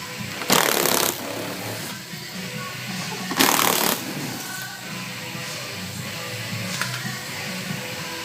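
A power tool spins loose the 8 mm bolts holding the front bumper cover to the lower air dam on a 2013-2016 Dodge Dart, in two short loud bursts over a steady background hum.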